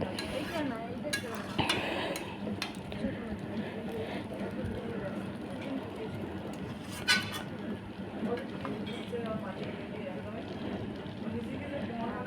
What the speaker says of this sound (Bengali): আমি কিন্তু বারবার দেখো নাড়াচাড়া করে নিচ্ছি